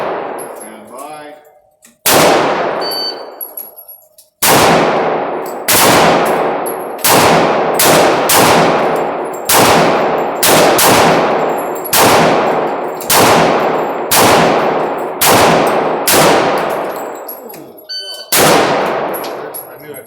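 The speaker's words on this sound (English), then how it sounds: "I knew I'd pull a couple shots." Glock pistol shots at an indoor shooting match: about a dozen loud, sharp reports with ringing echoes, fired at an uneven pace close by.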